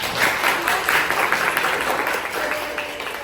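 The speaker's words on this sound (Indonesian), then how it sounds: "Coba tepuk tangan dong." A classroom of students claps briefly for a classmate, a lively burst of many hands close by that stays busy for a few seconds and then eases slightly.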